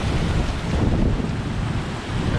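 Strong wind buffets the microphone over rough sea waves near a river mouth, a loud, continuous roar of surf and gusts with no voices.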